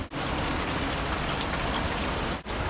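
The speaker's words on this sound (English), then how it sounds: "It's raining." Steady rain patters densely and loudly, a continuous hiss of drops briefly dipping at the start and near the end.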